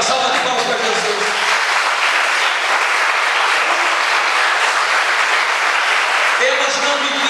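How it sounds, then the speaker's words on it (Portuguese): A congregation applauding during a church service, loud, dense and continuous clapping that fills the room for several seconds, with a voice heard briefly at the start and the end. "Uma salva de palmas para Jesus."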